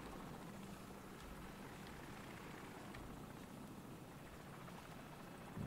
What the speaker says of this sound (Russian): слышишь? Вертушка.